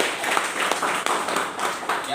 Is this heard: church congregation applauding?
yes